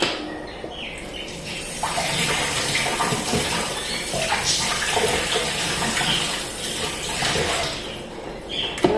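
Running tap water pours steadily over tomatoes being washed in a kitchen sink, a continuous close splashing and gurgling with small shifts as the fruit is turned, no voices.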